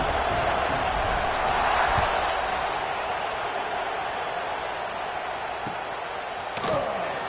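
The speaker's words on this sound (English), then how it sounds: "this crowd is buzzing after that last score" A crowd in a college football video game stadium buzzes continuously after a score, a steady wash of cheering and murmur with a few faint thuds.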